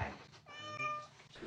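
A house cat meows once, a faint, drawn-out call rising and falling over quiet background noise.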